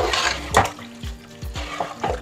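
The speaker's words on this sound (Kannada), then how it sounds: "ನಾನು ನೀರು ಹಾಕ್ಕೊಳ್ತಾ ಇದ್ದೀನಿ" Water poured into mutton for biryani in a pot, giving short splashing gurgles and a few bright drips that come in uneven bursts, close and moderately loud.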